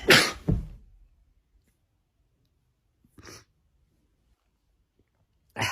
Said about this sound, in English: Oh, I'm gonna sneeze.